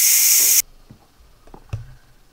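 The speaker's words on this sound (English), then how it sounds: "when you open the valve of the pressure cooker, do it with a glove" A loud burst of steam hisses from a pressure cooker's released valve, then stops abruptly, followed by a few faint clicks and a soft thud in a quiet kitchen.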